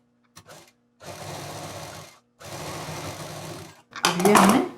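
A sewing machine stitches a 14-inch zip onto bag lining in two steady runs of about a second each, with short clicks and pauses between them and a louder rattling burst at the end.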